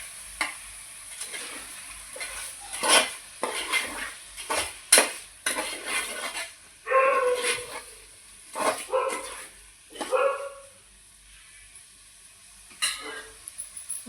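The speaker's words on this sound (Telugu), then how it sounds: "అలా అంతా కలిసిలాగా ఒకసారి కలుపుకుందాం." Spoon stirring four spoons of chilli powder into a pot of chicken curry, scraping and clattering in irregular bursts with a light sizzle underneath, close and fairly loud, no talking.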